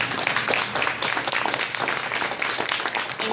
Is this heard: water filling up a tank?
no